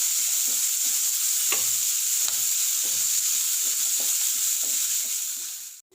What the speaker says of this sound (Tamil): பெருங்காயம், வெங்காயம் போட்டு நல்லா வதங்கணும்.